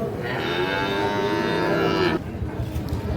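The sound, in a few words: Sahiwal bull calf mooing at cattle market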